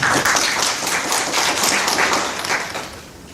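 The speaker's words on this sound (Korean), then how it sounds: "박수로 맞이해 주시기 바랍니다" Audience applause at a translators' conference discussion session, a dense, steady wash of clapping from a seated crowd welcoming panel speakers, fading slightly toward the end with no talk over it.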